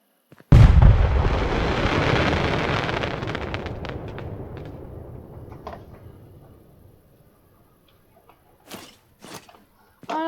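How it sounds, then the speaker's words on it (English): Firework exploding inside a house in the Fireworks Mania video game: one loud sudden blast followed by several seconds of crackling, rumbling debris that fades to quiet, then a few brief bursts at the end. "this is what happens when you light a firework inside your house"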